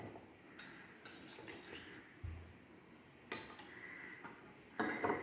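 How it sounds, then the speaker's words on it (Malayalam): Salt being stirred into water in a glass, faint and close, with a few distinct spoon clinks against the glass spread apart in the quiet. "നന്നായിട്ട് ഇളക്കി കൊടുക്കണം."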